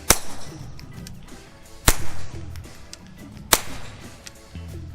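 Three sharp, loud cracks of a .22 LR rifle fired through a modular Q Erector suppressor with one baffle removed, each a sudden broadband snap with a brief tail, spaced evenly about two seconds apart.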